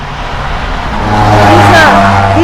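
Road traffic on an outdoor roadside where someone paints with watercolors, a vehicle swelling louder as it passes close by, with a steady engine hum underneath throughout.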